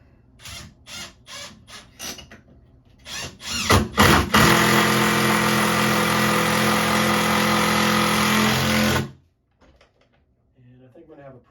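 A power drill drives screws into a GreaTalent door reinforcement lock, with several short whirring bursts and then a long, steady, loud run of about five seconds that stops abruptly.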